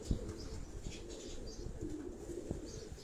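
Pigeons kept by a hobbyist breeder in Karachi, soft low cooing from the birds close by, with a few wing flaps and light rustles in the loft and no talking.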